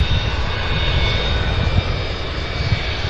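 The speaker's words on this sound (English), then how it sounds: "One loud jet right here." A loud jet aircraft at an airport, a continuous roaring engine drone with a high whine, close and steady throughout, with no talking.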